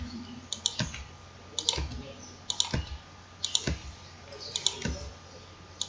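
Keyboard key presses and mouse clicks while filling in an attendance sheet in Microsoft Excel, heard as clusters of sharp nearby clicks in irregular bursts, with soft talk underneath.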